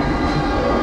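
Baturaden Express business-class passenger train pulling out of Bandung station, a steady low rumble of rolling stock and rail noise with no speech, continuous and fairly close.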